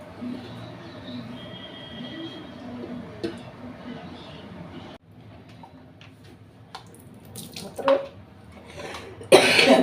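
A few sharp coughs break out toward the end, loud and close, after a stretch of quiet background noise and faint voices.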